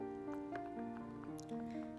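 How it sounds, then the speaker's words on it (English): A watercolor palette tray being refilled with water, soft, close drips and squishy liquid sounds over a faint steady background hum, with no voices. "Then I refill it with water."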